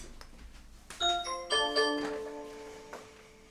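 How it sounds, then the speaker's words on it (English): A front-door doorbell chimes near and clear, a few bright ringing tones starting about a second in and overlapping as they fade out slowly in an otherwise quiet room. "Someone is at the front door."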